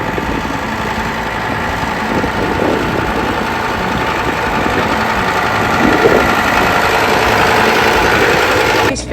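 Farm tractor engine running in very cold winter weather, a loud steady rumbling idle with a rough knocking rhythm that cuts off abruptly at the end.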